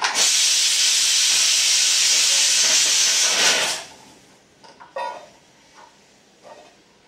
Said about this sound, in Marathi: मी हे असं भाज्या उकळायला टाकून दिल्या आणि ह्याच्यामध्ये मीठ टाकलेलं आहे.